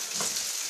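Steady sizzling of shrimp frying in a hot pan, a bright crackling hiss that stays even and close throughout.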